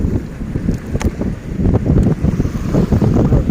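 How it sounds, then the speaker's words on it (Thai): Strong wind at sea buffets the microphone on a fishing boat while a new net is hauled in, making loud, steady gusting roar with uneven low rumbling throughout. "โอ้ยลมก็แรงมันดึงนะ"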